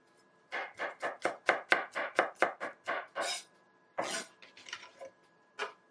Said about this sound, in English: So you have to chop it really fine, almost to a point of having gone through the garlic squeezer